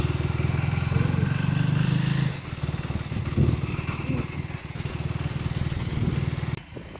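A motorcycle engine runs steadily and close by throughout, its low rumble dropping slightly after about two seconds and cutting down near the end, with no talk over it.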